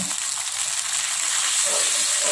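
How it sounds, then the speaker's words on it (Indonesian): Spiced milkfish with fermented soybean paste sizzles and hisses steadily in a hot pan while being stirred, a dense, continuous frying noise close up without talk. "kita aduk rata"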